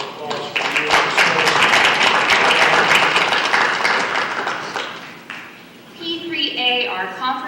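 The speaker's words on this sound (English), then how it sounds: "round of applause for you." An audience at a school board meeting gives a sustained round of applause lasting several seconds, which fades before a person begins speaking.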